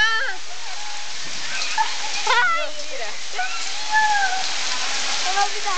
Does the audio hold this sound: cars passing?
no